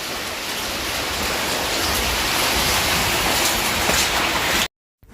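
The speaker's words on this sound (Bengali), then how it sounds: "এই যে আকাশের পরিস্থিতি দেখতে পাচ্ছ বৃষ্টি চলছে" Steady, dense pre-monsoon rain falling continuously on a village mud house, a broad hiss close by with no voices, cutting off abruptly near the end.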